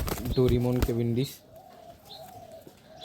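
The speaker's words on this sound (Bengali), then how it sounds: "এটা হলো একটা ব্ল্যাক কবুতর।" A black pigeon coos close by in a short throaty burst, followed by quieter, fainter sounds in a calm room.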